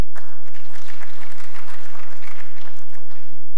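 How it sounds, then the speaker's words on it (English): Graduation lecture audience applauding themselves, a loud, close burst of many hands clapping that stays steady and then thins slightly near the end. "A round of applause for yourselves."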